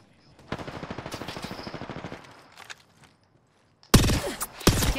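Automatic gunfire in Apex Legends: a rapid, evenly spaced burst of shots rattles for about two seconds, falls quiet, then loud close shots crack in two sharp bursts near the end.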